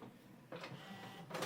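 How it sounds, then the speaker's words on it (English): An Epson ET-8550 printer pulls paper through, giving two short, quiet bursts of mechanical whirring separated by a brief lull. "enters the printer and then it is of course turned inside the printer."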